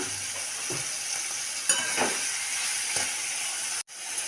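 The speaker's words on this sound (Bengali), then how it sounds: "বিনস আর কড়াইশুঁটি দিয়ে হালকা করে ভেজে নেব।" Green beans and peas fry lightly in a pan for a mung dal with vegetables, giving a steady, soft sizzle with a few faint stirring scrapes and no talking.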